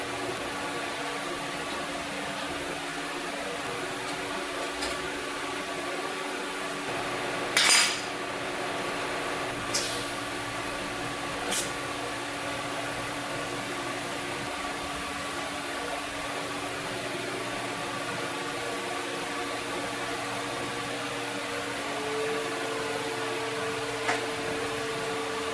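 Welding a copper banjo rim produces a steady electric hum and hiss that runs unbroken for the whole stretch, with a few brief metallic clinks and pops of the clamp and workpiece along the way.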